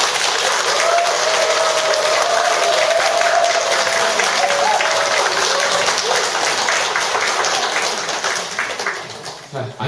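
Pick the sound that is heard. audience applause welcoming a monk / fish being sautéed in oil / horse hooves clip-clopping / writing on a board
audience applause welcoming a monk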